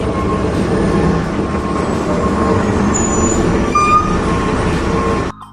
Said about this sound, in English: This is a garbage truck. It collects trash.